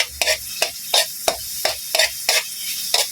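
Bitter gourd (ampalaya) and egg are sautéed in a pan, with about nine quick, evenly spaced scraping stir strokes over a faint sizzle.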